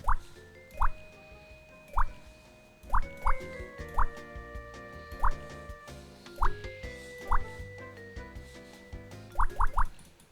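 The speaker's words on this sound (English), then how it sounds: "I found like a water drop sound effect on YouTube" Pitch-shifted water drop effect used for button clicks: about a dozen bright, rising plinks at uneven intervals, some in quick pairs, ringing over a steady musical backing.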